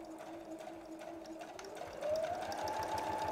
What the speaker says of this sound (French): Je fais une couture pour me donner une chance.